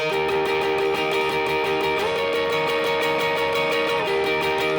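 Electric guitar chord shape ringing with open strings, a bright sustained harmonic texture with steady repeated strums and a shift in voicing midway, no voices.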